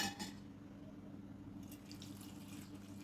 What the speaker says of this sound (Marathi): मी आधीच गरम पाणी घेतलं होतं ते घालूया